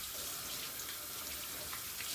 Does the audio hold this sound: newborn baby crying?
no